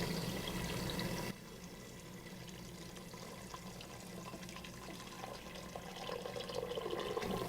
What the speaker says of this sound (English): You need to cover them with water about 2 inches above the beans.